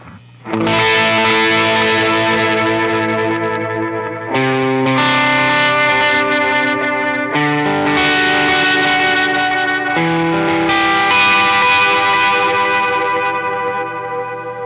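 Sustained electric guitar chords washed in Echoplex analog tape echo, repeating trails smearing together as the chords change every few seconds, loud and continuous.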